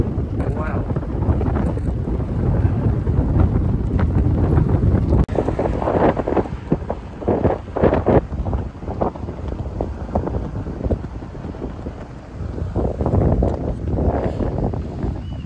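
Strong headwind roaring across the microphone while cycling along the Han River path in Seoul, a steady heavy buffeting rumble that lasts the whole stretch, briefly under a rider's voice.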